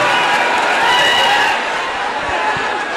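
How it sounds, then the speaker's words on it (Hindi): An audience at a mushaira in Dhule applauds to welcome the poet Shauq Dildarnagari, a loud, dense and unbroken wash of clapping from a large crowd. "एक बार जोरदार तरीके से तालियों से इस्तकबाल करें"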